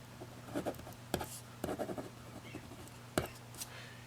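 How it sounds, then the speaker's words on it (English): Pen strokes scratch across paper while factoring notes are written out, several short bursts of scribbling with brief pauses between, close and moderately loud, no talking. "So let's write this down."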